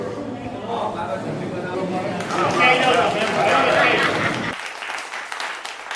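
A crowd claps in a sustained burst of applause that swells and then tapers off, with voices talking underneath.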